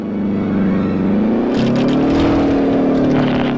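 An aircraft engine in the PS2 flight game Heroes of the Pacific drones loudly and steadily, its pitch lifting slightly partway through, with no talk over it.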